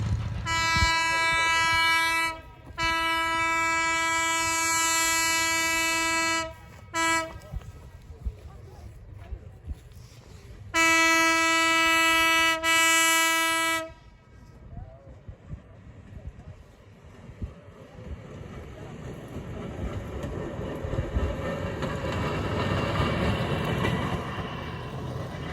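A Cumbres & Toltec steam train sounds its horn in long, loud, steady blasts, then rumbles past close by with rolling clatter that continues after the horn stops.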